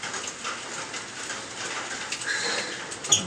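Steady rain falling outdoors, a continuous soft hiss with scattered drip and patter, plus a faint sharp tap near the end.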